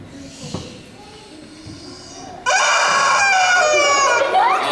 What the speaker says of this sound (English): Rubber chicken, that's a rubber chicken.